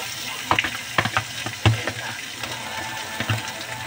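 Pork sisig frying in butter in a hot pan, a steady sizzle broken by sharp stirring scrapes and clacks of the spatula, close and bright, with no talk.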